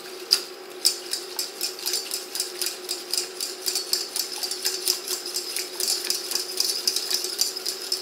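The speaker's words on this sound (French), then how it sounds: "Et puis on mélange le tout." Vegetable curry is stirred in a pan, a utensil scraping and tapping against the metal in a quick, fairly regular rhythm of light clinks, close and moderately quiet with no talking.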